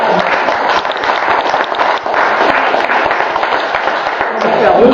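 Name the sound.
audience applause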